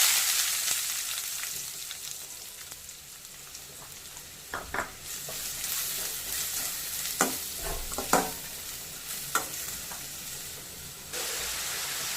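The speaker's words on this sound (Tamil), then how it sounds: "வெங்காயம் நல்லா வதங்கணும். கோல்டன் ப்ரௌன் கலர் வரணும்." Chopped onions sautéing in hot oil in a pan for a crab gravy, a continuous sizzle broken by several sharp scrapes and clacks of a spoon stirring against the pan.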